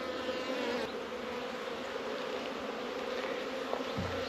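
Honey bees hum in a steady, dense drone during an early-season hive check, close and constant for several seconds, with a faint bump of handling noise near the end and no talking.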